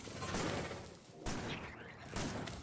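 Shotgun blasts from the Factorio video game, a few loud bursts of gunfire at roughly one-second spacing with no talk over them.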